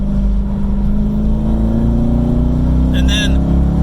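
C5 Corvette under way with a failing transmission that will not shift past second gear; a steady close engine drone holding one pitch, with a brief higher whine near the end.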